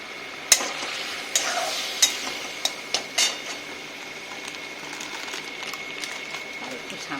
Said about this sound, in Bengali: আমি এখন ঘি মশলাটাকে ভালো করে কষিয়ে নেব